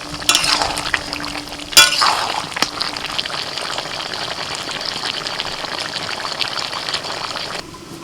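Chicken with chopped capsicum and tomato is stirred in a frying pan, scraping and sizzling steadily up close, with a couple of sharper clanks of the spoon near the start.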